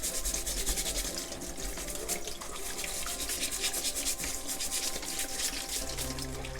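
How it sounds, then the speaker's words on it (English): Sea crabs scrubbed clean under running water in a sink, a steady close brushing and rubbing sound over a continuous flow of tap water, with no talking. "You want to wash them good, because you want to wash all of that dirt, everything off of them. Give them a proper scrub."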